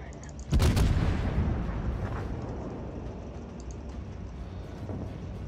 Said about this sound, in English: These guns have some bite to them.